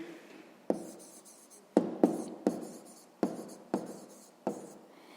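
Pen or pencil writing a sixth-grade math answer on paper, a soft steady scratch punctuated by seven or eight sharp taps as strokes begin, close and quiet with no talk.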